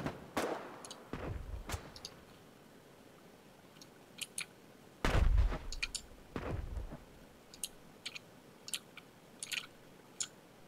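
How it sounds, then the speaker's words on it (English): Scattered gunshots in the war game Foxhole, a few heavy close bursts and sharp cracks among many faint distant pops, sporadic and irregular with quiet stretches between. "I hear gunfire."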